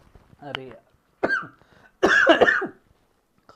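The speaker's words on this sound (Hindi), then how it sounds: "खांसी आ गई मुझे।" A few harsh coughs close to the mic, in separate bursts, ending with a longer raspy fit.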